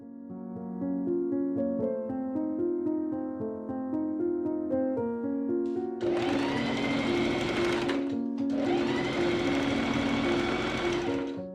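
A sewing machine stitches the front facing seam of a corset in steady, loud rhythmic bursts, running continuously and then speeding into two harder, louder runs near the end.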